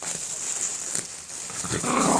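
A dog growls and rustles as it tears at packaging, the shredding noise crackling close by and getting louder toward the end.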